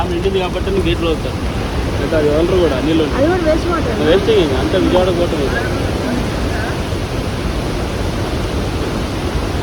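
Water discharged from the Nagarjuna Sagar hydroelectric dam after power generation roars in a loud, steady broadband wash, with voices talking faintly underneath through the first half.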